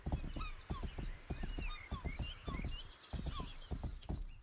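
A horse in the medieval video game Rustler trots with quick, close clip-clopping hooves in a steady rhythm while repeated whinnies and neighs ring out over the footfalls.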